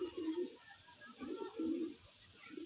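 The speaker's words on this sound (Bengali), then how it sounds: "খুব সুন্দর সুন্দর পায়রা আছে ভাইয়ের কাছে" Pigeons of an Andra breed coo in a rooftop loft, low rolling coos repeated in several close phrases at moderate volume, with faint background noise.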